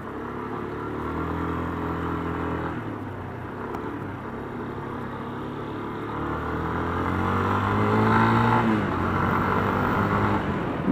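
A motorcycle with a newly repaired, previously loose exhaust pipe hums steadily while riding, engine tone rising toward the end as it accelerates, with no talk over it.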